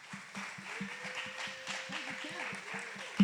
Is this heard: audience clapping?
yes